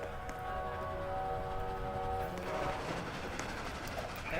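A train runs in the Roblox game Dead Rails with a steady rumbling roll and a high whistle-like tone that rises and falls, moderately loud throughout.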